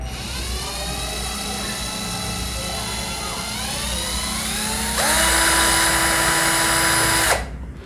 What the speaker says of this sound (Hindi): इसको आप धीरे दबाएंगे तो मशीन धीरे घूमेगी और तेज दबाएंगे तब फिर इसका चक